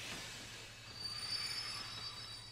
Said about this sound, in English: The train will be arriving shortly.